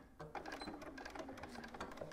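A sewing machine back stitching fabric, running in a fast, steady, close mechanical whir with rapid needle ticks and no talking.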